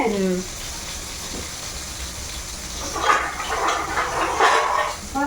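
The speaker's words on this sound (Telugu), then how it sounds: "పచ్చిమిర్చి బాగా వేగి ఘాటు పైకి వస్తుంది" Green chillies frying in a pan, giving a dense, close hiss of sizzling oil that brightens with spattering pops toward the end, after a brief voice at the start.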